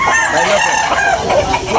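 A rooster crows loudly and close by at a chicken market, mixed with nearby clucking from other fowl.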